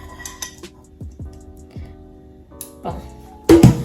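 Shrimp being plated onto a dish, with a series of distinct clinks and taps of utensils against the plate followed by a louder clatter near the end, close and fairly clear.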